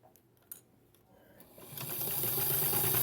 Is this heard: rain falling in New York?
no